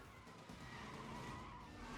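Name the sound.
sports car engine and tire skid from a video game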